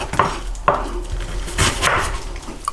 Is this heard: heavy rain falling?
no